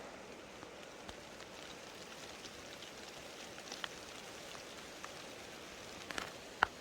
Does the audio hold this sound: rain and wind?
yes